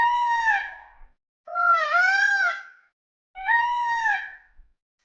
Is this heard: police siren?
no